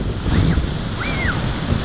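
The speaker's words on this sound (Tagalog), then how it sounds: "na sobrang lakas ng alon" Strong sea waves crash and surge against the shore at a swimming spot, a loud, continuous roar of surf with gusty wind buffeting the microphone, no talk heard.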